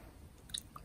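Quiet close chewing of steamed sweet potato, soft mouth sounds with a couple of brief sharper bites, no talking.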